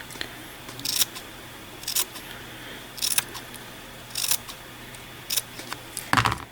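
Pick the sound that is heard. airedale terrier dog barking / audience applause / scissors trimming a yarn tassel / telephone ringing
scissors trimming a yarn tassel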